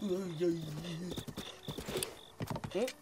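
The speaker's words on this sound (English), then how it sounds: "let's get to riding the horse over to the Rito" A horse ridden across open country in The Legend of Zelda: Breath of the Wild gives a quick run of rhythmic hoof clops. A voice sounds over the opening, then the steady hoofbeats carry on to the end.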